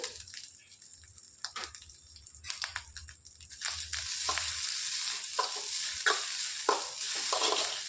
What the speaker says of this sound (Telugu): ఇందులోనికి కొద్దిగా నువ్వులు వేసేసుకోవాలి ఇందులోనికి కొబ్బరి కూడా వేసేసుకొని వేయించుకోవాలి